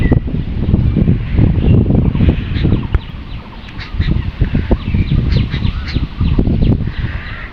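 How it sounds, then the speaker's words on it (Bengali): Strong wind roars and buffets continuously at close range, a loud, rumbling gust that never lets up. "বাতাস বইছে প্রচণ্ড আকারে বাতাস বইছে দেখতে পাচ্ছেন"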